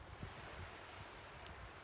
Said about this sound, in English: hear the ocean waves just crashing